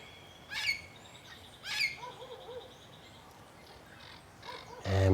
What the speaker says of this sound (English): the parrots are calling out to remind you to breathe